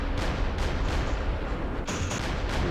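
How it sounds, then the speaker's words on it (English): Airstrike explosions in the wargame Campaign Series West Front: a dense, loud rumble of repeated blasts and booming impacts layered over one another, with no talking. "Airstrike coming in."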